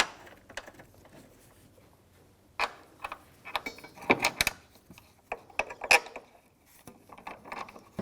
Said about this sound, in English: And that's a 14mm socket. Let's snug them right down.